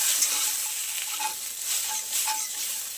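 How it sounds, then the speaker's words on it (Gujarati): Spices, salt, turmeric and ginger-chilli paste are stirred in a hot oiled pan for masala khichdi, giving a steady close sizzle with repeated scraping strokes and no talking. "બધું સરસ મિક્સ કરી લઈએ."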